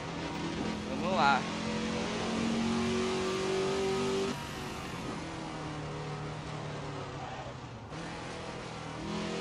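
A Ford GT40 engine in Assetto Corsa hums steadily through a lap, a mid-pitched drone that rises and shifts with gear changes, fairly quiet and continuous.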